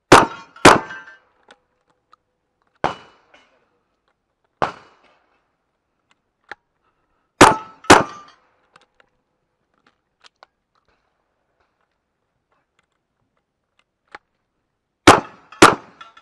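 Shotgun blasts strike steel targets at an outdoor cowboy action shooting match, heard as loud sharp reports in close pairs and singles with ringing metallic clangs, separated by quiet gaps.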